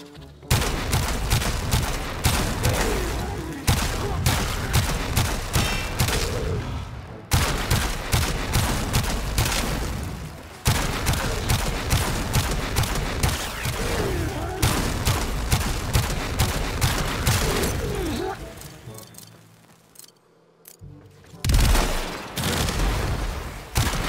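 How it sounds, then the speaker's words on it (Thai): The Sepulcrum gun in Warframe fires rapid, repeated shots in long dense volleys against level 175 enemies, loud and continuous with short gaps and a brief lull near the end. "ทดสอบประสิทธิภาพของปืนเซปูครัมในบิลดังกล่าวกับศัตรูทั้ง3เผ่าที่เลเวล175"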